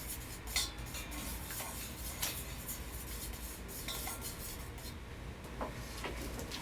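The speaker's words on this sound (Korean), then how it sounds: "양초에 향을 더해줄 오일을 넣고 섞어줍니다" Melted candle wax being stirred with fragrance oil gives a soft, steady scraping and rubbing, with faint light clicks of the utensil against the container, close up and with no talking.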